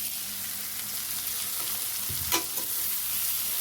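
Dried fish, shutki, frying in a pan, a steady close sizzle with occasional spoon stirring clicks and scrapes.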